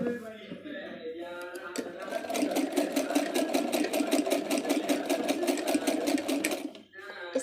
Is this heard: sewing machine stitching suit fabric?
yes